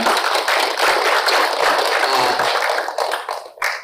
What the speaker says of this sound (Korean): 임기현 소장님께 다시 한번 박수 부탁드리겠습니다